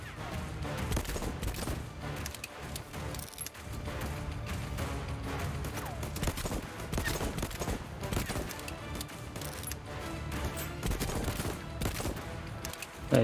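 Rapid bursts of gunfire in the video game Voidtrain, assault rifle shots cracking in dense, uneven volleys with short gaps, close and loud for most of the stretch.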